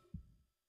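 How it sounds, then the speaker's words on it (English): A single low, muffled heartbeat thump from the horror game Dead Space 2, one soft pulse with a brief decaying rumble, alone and quiet. "I can hear my own heartbeat."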